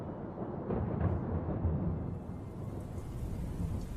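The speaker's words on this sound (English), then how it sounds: "the sudden onset of rain downpouring on the lookout tower" Heavy rain pours onto a lookout tower in a storm, a dense, steady roar of water that stays loud and unbroken throughout, with no voices heard.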